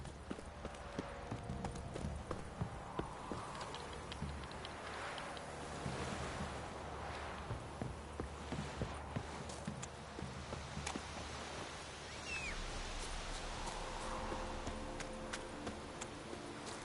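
Geralt's horse Roach in The Witcher 3 clip-clopping along at an even walking pace, hooves heard amid wind and wave-like surf, with a faint voice now and then.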